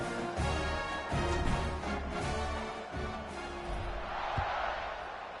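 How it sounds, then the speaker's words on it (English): Stadium crowd noise at a college football video game season opener at Kent State against an FCS Midwest team, a steady broad roar with swells of cheering, no speech. "You think this crowd's going to get loud when their defense comes on the field?"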